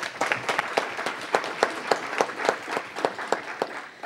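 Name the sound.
audience applause at council meeting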